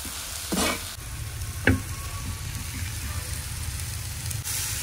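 Chutney sizzling and frying on a hot griddle over a flame, a steady close crackle with brief scraping stirs, under a quiet voice.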